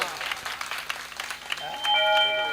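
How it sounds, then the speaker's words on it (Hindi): An audience claps after a devotional bhajan, a brief burst of hand clapping mixed with voices, fading as a tonal sound comes in. "अगर भजन अच्छा लगा हो तो तालियों का आशीर्वाद तो दे दिया करो"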